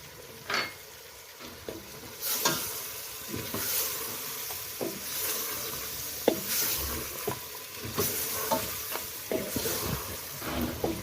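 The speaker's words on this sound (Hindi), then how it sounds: "जब तक ये भूनता रहेगा हल्की आंच पे" Mutton pieces frying in a pan over a low flame with red chilli powder and salt, a steady soft sizzle under repeated scraping and clinking strokes of a stirring spoon, close and moderately loud with no talk.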